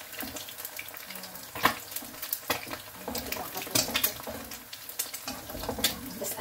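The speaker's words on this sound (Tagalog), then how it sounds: "Naparami yata yung aking mantika. Tumatalsik." Food fries in too much hot oil that splatters, crackling and sizzling with irregular sharp pops and stirring clatter close by, and no talk over it.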